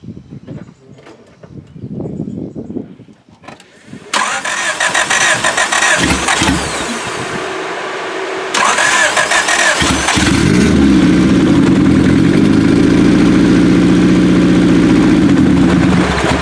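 A turbocharged Honda B18 engine with newly installed cams cranks with a loud starter whir, catches and roars to life, then settles into a loud, steady rumbling idle with a rising whine over it.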